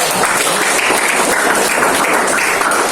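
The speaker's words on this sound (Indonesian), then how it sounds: "kita tepuk tangan untuk Teddy" Steady, dense applause from an audience of participants at a teacher training mentoring session, clapping for a classmate named Teddy; loud and continuous for the full three seconds with no voices heard.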